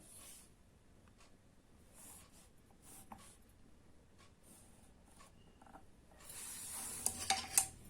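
Pencil scratching across paper while a line is ruled between two points in a geometry construction, soft and close, with louder scraping strokes near the end and no talking.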